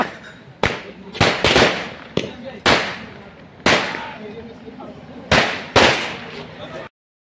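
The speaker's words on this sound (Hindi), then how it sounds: "और ये देखो पटाखे दबा के" Firecrackers burst at a nighttime college celebration for the Ram Mandir consecration, a string of loud, sharp bangs at irregular intervals, each followed by a brief echoing tail, over a crowd murmur.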